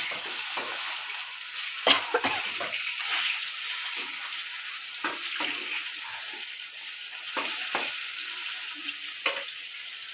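Pieces of rui fish fry in hot oil, giving a continuous close crackling sizzle with scattered sharper pops and spatters throughout, no voices.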